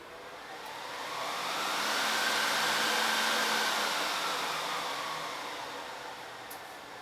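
A loud home file server powered on and running, a steady broadband fan whoosh that swells to a peak midway and eases slightly, close and continuous with no talking.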